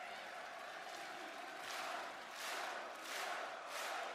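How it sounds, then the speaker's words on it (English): A large international wrestling crowd at a WWE SmackDown event roars and cheers, a steady wash of crowd noise swelling in several waves, broad and distant-sounding with no clear speech. "the international crowd really is really active, energetic"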